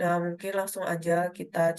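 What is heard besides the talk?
No distinct noise like a dog, phone or traffic.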